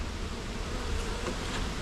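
Honey bees stream into the entrance of a newly set up WBC hive, a dense, steady buzzing hum close by with no voices.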